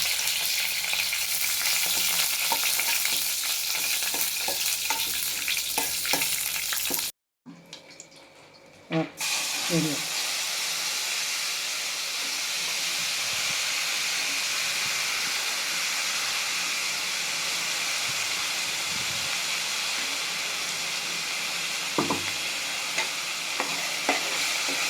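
Urad dal and curry leaves frying in hot oil for tamarind thuvayal, a steady loud sizzle and hiss with stirring, briefly cut off partway before the crackling resumes and continues to the end.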